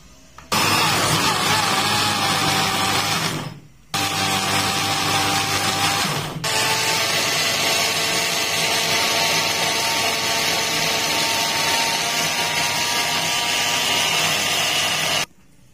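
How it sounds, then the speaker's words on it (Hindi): Electric grinder blending boiled apricots into a chutney, running loud and steady for about fifteen seconds with a brief stop near the four-second mark and a shift in pitch as the mixture breaks down. "अब हम इसको ग्राइंड कर लेते हैं।"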